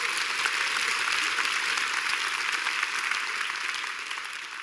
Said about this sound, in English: Won't you give the Lord a big hand clap, church?